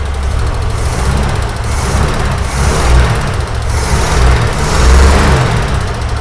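The engine of a 1961 Ford van runs steadily after the van sat unused for 30 years, a loud, close, rough idle with a throbbing low rumble and slight surges.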